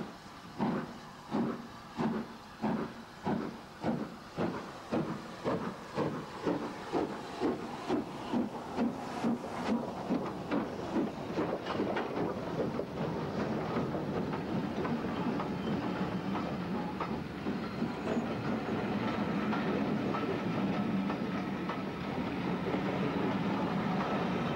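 A steam locomotive working hard, its rhythmic chuffs starting slow and distinct, then quickening until they blur into a steady roaring hiss of steam and running gear over the rails.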